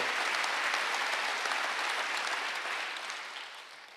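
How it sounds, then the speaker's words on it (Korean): Congregation at a Wednesday church service bursting into applause, a few seconds of full, even clapping that gradually tapers off at the end. "박수 한번 드리세요"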